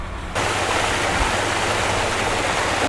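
Water rushes loudly through an opened paddle on a London canal lock, a steady broadband roar that starts abruptly and holds at full strength before cutting off near the end.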